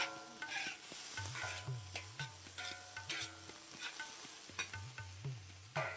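Ginger stirred and frying in a pan for a Mauritian vegetarian bol renversé, with a steady sizzle broken by repeated rhythmic scraping strokes of the spoon, close and alone with no voices.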